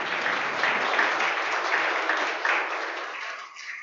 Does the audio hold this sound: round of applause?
yes